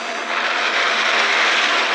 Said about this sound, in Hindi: और वो गया हमारा हेलीकॉप्टर।